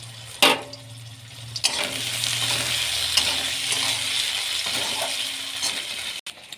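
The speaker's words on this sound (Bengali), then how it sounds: "এই যে পেঁয়াজটা দিয়ে দিয়েছি, পেঁয়াজটা ভাজা হচ্ছে।" Chopped onion frying in hot oil in a wok with dried red chilli and bay leaf, a steady loud sizzle with a few sharp clinks of stirring at the start and around the middle.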